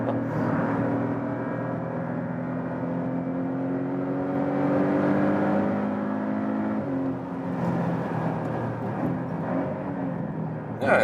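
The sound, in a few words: Porsche 718 Boxster GTS 4-cylinder engine revving, automatic upshifts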